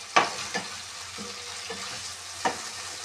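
Minced garlic sautés with meat in ghee in a pan, a soft steady sizzle broken by a few sharp stirring scrapes spaced across the moment, close and moderately loud with no voices.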